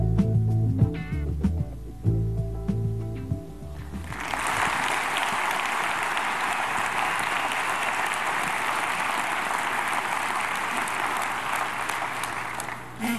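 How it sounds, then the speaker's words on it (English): Audience applause for the top ten finalists at the ArtPrize 2011 winner announcement. It rises after a stretch of music and continues as a steady, full wash of clapping for about nine seconds. "thanks for that round of applause for our top 10."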